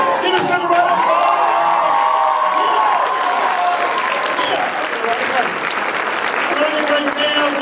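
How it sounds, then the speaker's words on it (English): Loud applause and cheering from a crowd at a student leadership conference, steady clapping with whoops and shouts layered over it, continuing for several seconds with voices mixed in. "Give us a round of applause."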